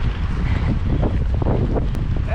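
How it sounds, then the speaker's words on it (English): Strong, gusty wind in trees roars loudly and continuously, buffeting the microphone with a dense, low rumble. "The wind in the trees is crazy right now."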